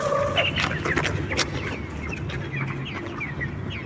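Sick poultry on a chicken farm, birds with a severe cold, cluck and wheeze with hoarse, frog-like croaks, many overlapping calls close by over steady low barn noise.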